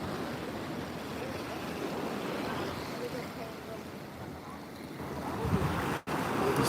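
Ocean surf washes continuously along Monterey Bay on a clear day, with wind buffeting the microphone and a brief dropout near the end.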